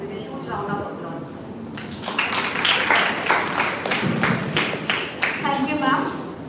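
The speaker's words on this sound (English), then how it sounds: "May I request everyone to welcome them with a huge round of applause." Audience clapping breaks out to welcome guests at a computer science conference, starting sparse and thickening into scattered rounds of claps while a voice talks over it.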